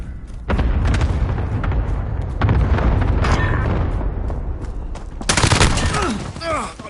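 Gunfire rattles in Call of Duty: Modern Warfare on a PS4 Pro, with sustained loud bursts, several heavy booms, and a voice speaking over the combat.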